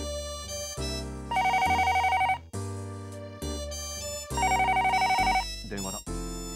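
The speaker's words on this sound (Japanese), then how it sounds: "電話だ。" In the Dreamcast game Tantei Shinshi DASH!, an electronic telephone rings in two trilling bursts over looping background music.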